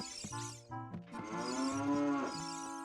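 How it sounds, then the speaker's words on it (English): A cow moos in Zelda: Ocarina of Time, one long, drawn-out lowing call following a few shorter grunting moos, close and clear with no talking over it. "like, you know, a cow's moo"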